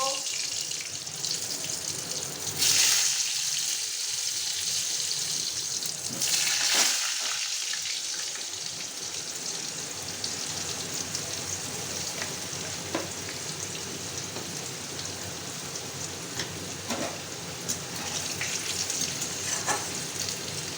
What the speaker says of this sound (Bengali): জিরে সম্বার দিলাম, তেজপাতা সম্বার দিলাম। তারপরে আলু ভেজে নেব।